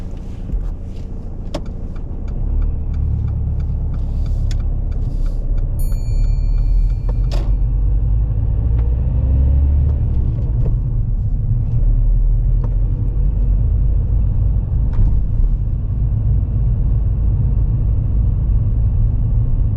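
Car pulling away during a practical driving test, a steady low engine rumble from inside the cabin with a few small clicks and knocks early on, growing slightly louder as the car gets moving.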